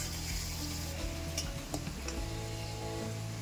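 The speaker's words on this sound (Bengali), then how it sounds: "এবার আর একটু আমি ভালো করে কষিয়ে নেব।" Masala with chopped tomatoes frying and being stirred in a pan for a Bengali koi fish curry, a soft sizzle with light ticking and scraping of the spoon, moderately quiet and steady.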